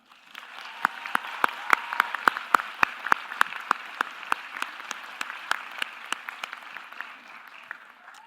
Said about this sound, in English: please give a big round of applause to the people who helped you get here